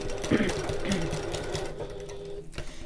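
A sewing machine back stitches across a pocket in short bursts, running close and steady while someone talks over it.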